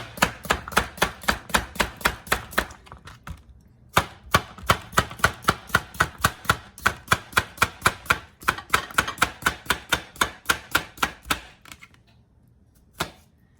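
A knife slicing a cucumber on a cutting board for a snack, producing steady rhythmic chops in quick runs of sharp, close taps with short pauses between runs.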